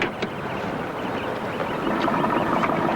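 A car engine with a worn, noisy muffler rumbles steadily at a rough idle, a continuous throaty drone close by with no one speaking.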